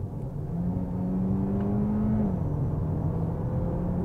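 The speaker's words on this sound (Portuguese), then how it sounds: "mas é um motor assim cremoso, não é ruidoso demasiado, mas para um motor a gasolina faz assim um barulhito interessante" The hybrid petrol engine of a new Peugeot 308 pulls hard in Sport mode, its smooth hum rising steadily in pitch, then dropping slightly at a gear change before climbing again, heard from inside the cabin.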